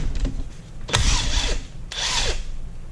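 Power tool spinning off the face bolts of a BMW E30 limited-slip differential, heard as two short, loud whirring bursts close by, each winding down in pitch, with a brief pause between them.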